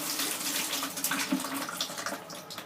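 Water from a tap runs steadily into a freshly unclogged sink drain, a soft continuous splashing and gurgling close by, fairly quiet and uninterrupted.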